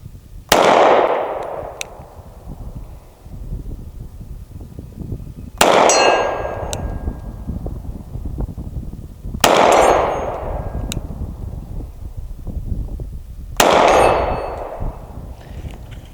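Four loud, sharp CZ P-07 pistol shots spaced several seconds apart, each followed by a ringing metallic clang from a steel target and a decaying echo outdoors.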